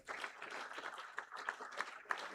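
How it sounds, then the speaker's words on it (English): Scattered applause from a crowd at a school academic awards ceremony, steady clapping heard at a distance, fairly quiet. "Kindly be more generous in applauding."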